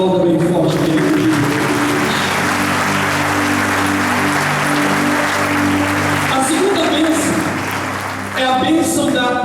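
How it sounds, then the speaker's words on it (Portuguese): A church congregation at a Feast of Tabernacles service applauds loudly and continuously, with sustained held musical tones and some voices running underneath, then a brief dip before the clapping swells again. "Se você recebe, aplauda bem forte dele."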